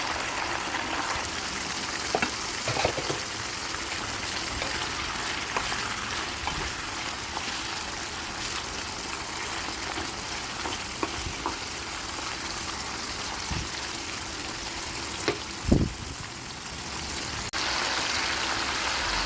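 Chicken karahi with green chillies frying in plenty of oil and being stirred: a steady, dense hiss fills the whole stretch, with a few faint clinks and one louder knock near the end and no speech.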